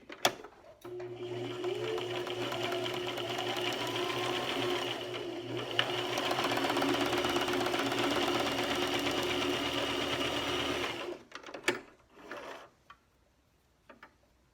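A sewing machine running a dense satin zigzag stitch, a steady close mechanical whir with rapid needle ticking that runs continuously for about ten seconds, then stops with a few small clicks.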